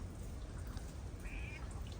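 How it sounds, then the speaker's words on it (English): A wet cat gives one short, faint meow midway through, over the steady hiss and patter of much-needed rain close by. "And a wet cat."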